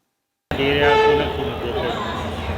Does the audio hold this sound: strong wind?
no